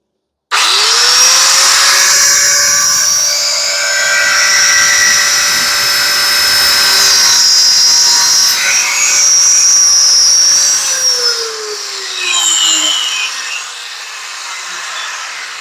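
A power saw cuts a 45-degree angle through a wooden profile, a loud steady high whine running for about ten seconds before the blade winds down.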